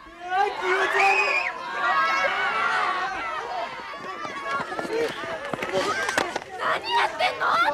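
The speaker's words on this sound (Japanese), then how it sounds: "きっと出迎えの歓声よ" A crowd of many voices shouting and cheering together, loud and continuous, with excited high-pitched cries rising through the din.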